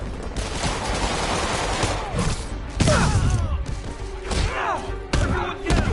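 Bursts of gunfire and heavy impacts crash through a Spider-Man video game fight, loud and dense, with sharp whooshing effects and shouting voices mixed in.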